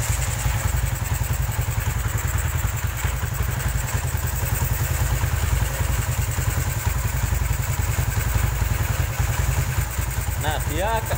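A Honda Tiger motorcycle engine runs steadily nearby with a rough, continuous mechanical drone and faint clatter, staying fairly constant rather than clearly revving, and someone talks over it.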